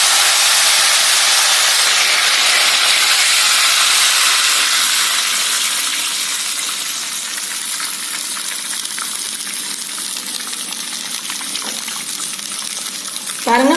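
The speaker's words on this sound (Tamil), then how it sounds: "இதுல இப்ப நம்ம இந்த கரைச்சி வச்ச புளியை சேர்த்துக்கலாம்" Tamarind water poured into a hot pan of puli thokku hisses and sizzles loudly at first, then settles into a softer, steady bubbling hiss.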